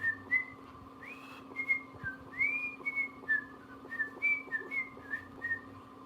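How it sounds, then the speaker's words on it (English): Someone whistles a short melody, clear tonal notes rising and falling in an uneven tune, close and moderately loud over a faint steady hum. "I bet you I could whistle my ass off."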